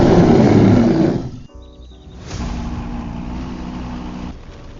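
A Lamborghini in a Roblox game roars loudly, a booming engine burst that drops away briefly with some tonal game beeps, then returns as a sustained, steady engine drone.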